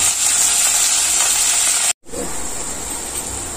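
Mustard seeds, cumin, dried chili, garlic and curry leaves frying in hot oil for a tempering, a steady loud sizzle and hiss that breaks for an instant and then resumes with crackling.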